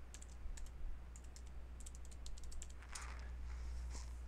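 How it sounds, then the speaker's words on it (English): Password keys tapped out on a Mac computer keyboard: a quick run of light, crisp clicks in short irregular bursts, close and fairly quiet, with no voices. "So I'm going to go ahead and type that in."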